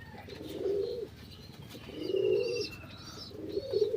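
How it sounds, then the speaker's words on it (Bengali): Pigeons in a loft coo in three soft, rolling bursts close by, with faint chirps and rustling between calls. "আজকে নিয়ে আসলাম আমার কবুতর লফটে।"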